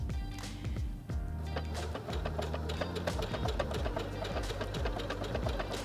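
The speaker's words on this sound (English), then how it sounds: "Right now I have a tulip stitch, one of your decorative stitches, programmed in here. So when I sew," A Heavy Duty HD6805C sewing machine runs steadily through a programmed decorative tulip stitch, its fast needle clatter pulsing in a continuous mechanical rhythm, close and alone with no voices.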